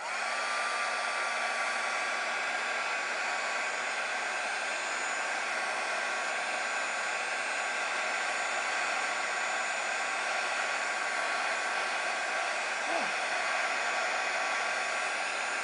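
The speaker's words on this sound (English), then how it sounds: "take my heat gun and apply it to the leaf" A heat gun blows with a steady, loud whooshing roar while melting embossing powder on a skeleton leaf, a constant airflow hiss with a faint whine that continues alone for the whole stretch.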